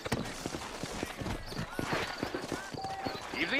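Horses' hooves clip-clop on the ground in the video game Red Dead Redemption, set in New Orleans, a close, uneven run of hoofbeats with a faint whinny and tack noises mixed in.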